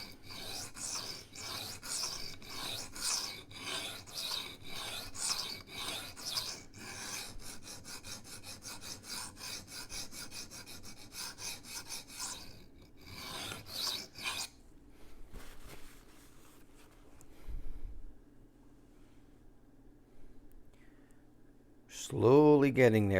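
Rough Ryder Half Hawk knife blade rasping against a sharpening stone with 3D printed angle guides, steady back-and-forth strokes close up, rhythmic for about fifteen seconds before trailing off into quieter scraping.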